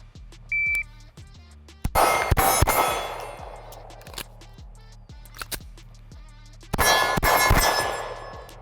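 Pistol shots from an OA Defense 2311 Compact Pro striking steel targets: loud sharp bangs, each followed by a ringing clang, in two bursts of three separated by a pause for the reload, with a low electronic hum underneath.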